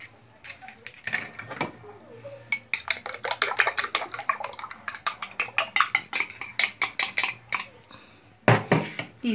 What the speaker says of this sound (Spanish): Y seguimos mezclando.